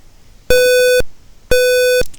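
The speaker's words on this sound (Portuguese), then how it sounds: "2 bips curto" Two loud electronic beeps from an electronic monitoring relay circuit simulated in Proteus, each about half a second long, evenly spaced with a short silence between them.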